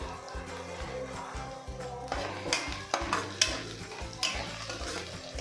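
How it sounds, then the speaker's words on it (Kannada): Masala with curry leaves frying in a pan for egg curry, a steady sizzle broken by stirring scrapes and clinks of a spoon against the pan, close by with no voices. "ಹಸಿ ವಾಸನೆ ಹೋಗೋವರೆಗೂ ಚೆನ್ನಾಗಿ ಫ್ರೈ ಮಾಡ್ಕೊಳ್ಬೇಕು"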